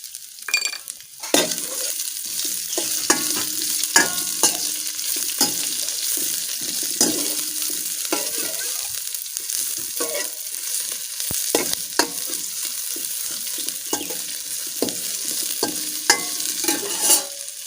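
Chopped onion fries in hot oil with mustard seeds and curry leaves for a beans palya, a constant close sizzle punctuated by repeated scraping strokes of a spoon stirring the pan.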